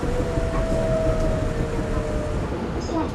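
Riding a subway train in Korea: a steady, loud rumble of the moving carriage fills the car, with a faint whine of wheels and motors running throughout.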